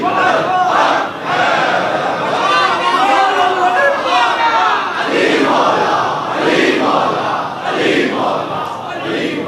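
A large audience at a Shaban religious celebration chants slogans in unison, loud rhythmic group cries rising and falling in waves close by, with a speaking voice mixed in.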